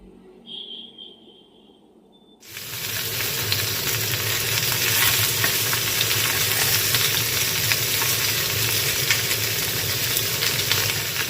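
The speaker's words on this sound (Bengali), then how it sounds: "দু পিঠ ভেজে নিলেই তৈরি হয়ে যাবে দারুণ স্বাদের ভেটকির পাতুরি" Bhetki fish paturi, fish wrapped in leaves, frying in a pan with a steady, loud sizzle that starts abruptly after a quieter moment and holds continuously to the end.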